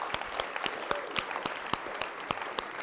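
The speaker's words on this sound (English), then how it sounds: "I would like to have a round of applause to all of our parents." A graduation audience claps for parents at a Grade 12 convocation ceremony, a steady patter of many hands in a large hall with sharp individual claps standing out.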